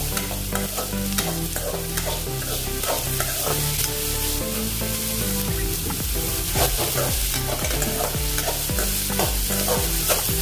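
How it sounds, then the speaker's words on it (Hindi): Finely chopped onions, cut in a cutter, fry with green chillies in a pan for veg Manchurian. A steady sizzle runs throughout with repeated stirring scrapes, set against a continuous tonal background. "प्याज को हम 1 मिनट भून लेंगे।"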